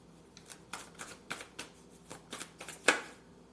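Tarot cards being shuffled by hand, a close run of quick riffling flutters and soft slaps in uneven bursts, ending in a sharper snap.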